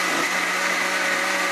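A blender runs steadily at high speed, liquefying homemade habanero hot sauce with allspice, a loud, constant whirring roar with no talk.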